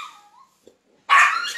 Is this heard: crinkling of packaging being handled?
no